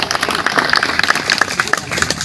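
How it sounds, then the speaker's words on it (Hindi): Applause from a large crowd gathered outdoors at a protest meeting in Eco Garden, a steady dense patter of many hands with scattered louder claps, fairly close and continuous throughout. "एक बार सब अपने लिए दोबारा ताली बजाइए।"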